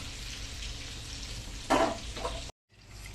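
Stuffed bondas deep-frying in oil, a constant close sizzle with a brief louder burst midway, then a short silent gap before the frying noise resumes.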